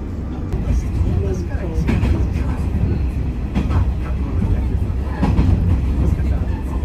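Tourist train on the Yamaguchi line passing through a station, a loud steady rumble with rhythmic clattering bursts, heard from inside the carriage while a person talks over it.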